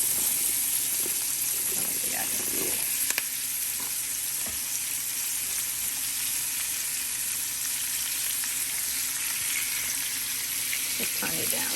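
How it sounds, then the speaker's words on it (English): Onions and mushrooms sauté in butter in a pan, giving a steady close sizzle throughout with a few soft stirring scrapes and faint clicks, no talking. "And then I'm about to put my onions in here. Let them saute. Put my mushrooms in here."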